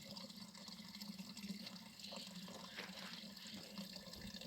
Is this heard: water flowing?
yes